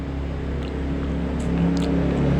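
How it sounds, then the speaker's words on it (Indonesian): The engine of a sand suction pump at a sand mining site runs with a steady, loud low drone and a slight rise in pitch toward the end, with no other sounds over it. "karena memang mesin pun sudah hidup dan berjalan"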